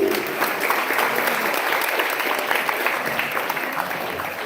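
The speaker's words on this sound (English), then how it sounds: "A huge round of applause." An audience at a breast health talk breaks into steady, dense applause that holds evenly throughout, a continuous wash of many hands clapping.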